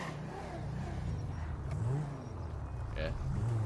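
A car in a video game drives and turns without braking, its engine a steady low hum with a revving rise near the end, playing continuously beneath faint background sound.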